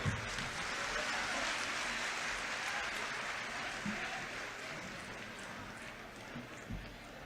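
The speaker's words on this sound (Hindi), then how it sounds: "आपकी तालियां बहुत हल्की हैं लखनऊ।" Audience applause at a political event in Lucknow, a continuous mid-level patter of clapping from a crowd that thins slightly toward the end, with a voice faintly present.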